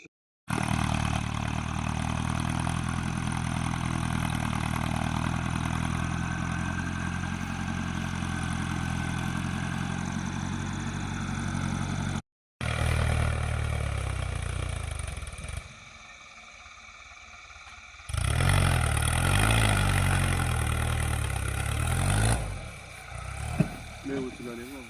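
A tractor engine runs in a muddy, freshly watered field, a steady loud mid-pitched drone that cuts out briefly, drops lower, then surges back with rougher revving near the end.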